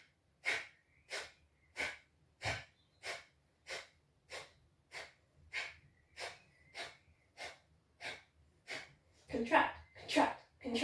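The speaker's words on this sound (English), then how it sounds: "It's that breathing practice that happens from the belly, the forced exhale through the nostrils that is controlled by contracting the belly muscles" Rapid, forceful exhales pushed through the nostrils in Kapalabhati breathing driven by belly contractions, about seventeen sharp snorting puffs at an even pace of roughly one every half second, growing louder and harsher in the last few, up close.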